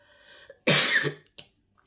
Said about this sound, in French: là j'ai eu un coup de toux